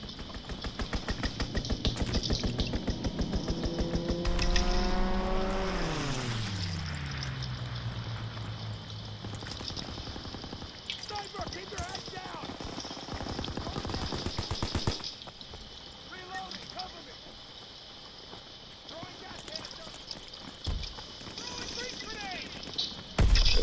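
Enemy strafing run in Call of Duty WWII, with rapid machine-gun bursts rattling through the mix, a descending aircraft engine whine, and scattered explosions and gunfire from the game.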